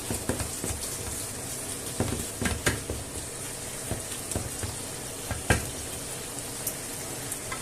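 Noodles fry in one pan with bacon and chickpeas, giving a steady crackling sizzle punctuated by sharp clicks and scrapes as the food is spread and moved around.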